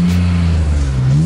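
Engine of a BMW E30 drift car built for winter drifting idles and revs up close, a steady low harmonic drone rising slightly in pitch.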